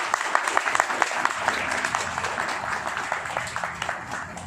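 An audience at a Shani Dev devotional gathering claps steadily for the whole stretch, a dense, fairly loud wash of overlapping hand claps with sharper individual claps popping out, and no talking on top.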